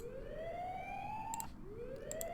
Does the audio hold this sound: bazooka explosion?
no